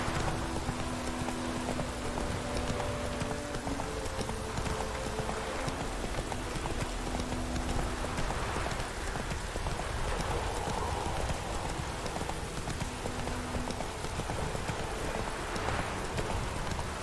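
Roach the horse galloping in The Witcher 3, a fast steady clip-clop of hooves running continuously up close over a background of rain-like noise and ambient game music.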